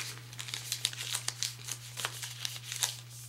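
2011 Topps Lineage hobby pack wrappers crinkle and tear open up close, with a rapid, uneven burst of loud crackling rips over a steady low hum.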